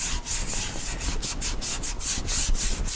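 A Scotch-Brite pad scuffs a painted steel wheel from a 1962 Chevy C-10 truck in steady back-and-forth strokes, a close, dense rasping rub repeating roughly four times a second, alone without talk.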